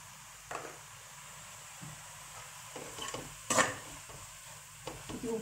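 Rice being stirred in a pan after asafoetida goes in, soft scraping strokes of a spoon against the pan over a faint, steady sizzle, with a louder clink partway through.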